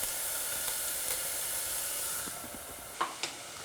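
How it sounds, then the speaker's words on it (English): Dal spice paste frying without oil in a pan over a low flame, a steady loud sizzling hiss that fades partway through, followed by a couple of sharp clinks. "I'm going to put in this paste and fry it a bit"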